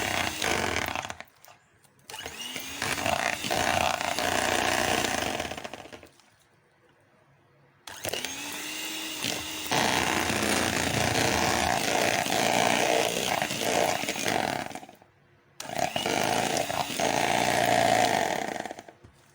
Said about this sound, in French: vous allez la ramollir avec votre batteuse électrique